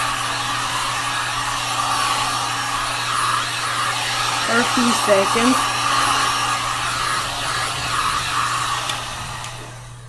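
Heat gun blowing steadily on an alcohol ink tumbler, a constant whooshing hum throughout at moderate volume, with a few quiet spoken words partway through.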